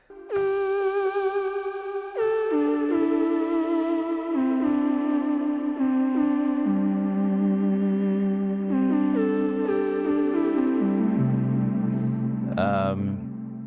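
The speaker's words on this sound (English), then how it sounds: "And the last element that I put in the intro is this flute." Flute patch from the Thorn synthesizer by DS Audio, playing a sustained, slightly wavering melodic line with echo, shifting through several held notes over chords before a brief brighter flourish near the end.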